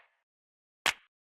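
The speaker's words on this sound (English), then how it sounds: "So kind of just like a punchy, sort of like, almost like a rim shot kind of layer" A punchy clap layer with a rim shot-like snap for a house beat: one sharp, bright hit struck alone after a short pause, with a quick decay.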